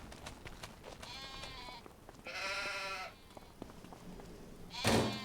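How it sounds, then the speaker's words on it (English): Sheep in the video game Farming Simulator 25 bleat twice in drawn-out calls, with another sharp bleat near the end, over a quiet ambient background. "I think I'm gonna go over here with the sheep."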